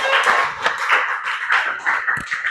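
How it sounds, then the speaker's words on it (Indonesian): Classroom group clapping for a presenting group after a discussion session, a loose, uneven patter of hands with individual sharp claps standing out, moderately near. "berikan tepuk tangan kepada kelompok penyaji"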